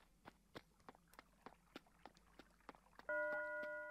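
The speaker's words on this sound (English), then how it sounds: "I think I need to wait for the bells to chime, though." Bells chime at noon in the Animal Crossing: New Leaf video game, a sustained set of clear tones entering suddenly after a quiet stretch of soft, evenly spaced footsteps.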